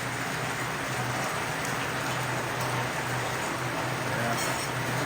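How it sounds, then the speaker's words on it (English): Heavy rain pours down steadily in a village, a dense, continuous hiss of drops drumming on surfaces with no break, loud and close throughout. "it's raining cats and dogs here"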